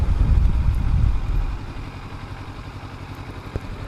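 Motorcycle riding past the local college in Reno, its engine rumble loud at first and then easing to a lower, steadier drone with wind noise, no voices.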